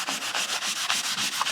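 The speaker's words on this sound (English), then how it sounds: "before that, need to do a final bit of sanding" Light hand sanding of stained wood with a green abrasive pad, a close, steady series of rhythmic scratchy back-and-forth strokes, about seven passes, with no talking.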